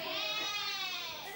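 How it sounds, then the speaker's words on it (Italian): A single drawn-out, wavering sheep bleat, fairly close and clear, lasting just over a second with no talk over it. "Scusate, delle pecore, ho sentito da quella parte"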